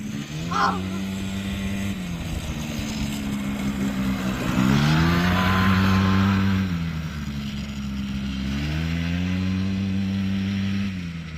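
Worn, battered moped or quad bike engine revving up and down in long surging waves, loud and close, with brief voices in the background.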